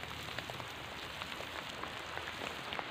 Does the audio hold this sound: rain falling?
yes